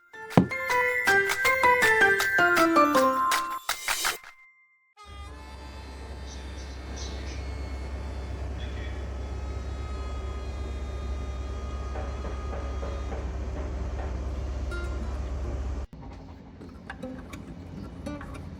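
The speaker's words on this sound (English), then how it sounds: "Train travel in Scotland never disappoints." A steady low rumble of a moving train carriage with rattling hiss, preceded by a brief burst of melodic chimes, then a quieter cabin hum near the end.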